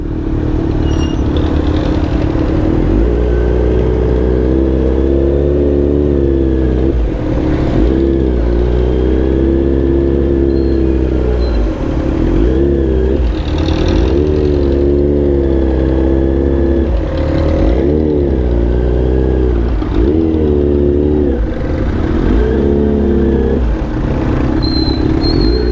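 Road traffic with cars and motorcycles on the way to Naic, Cavite: loud engines rev and drone close by, rising and falling as vehicles accelerate and ease off.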